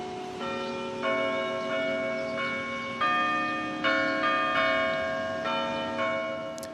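Church bells at Duke Memorial United Methodist Church ring out the melody of a pop song, a steady sequence of clear, resonant pitched strikes sounding alone with no talk.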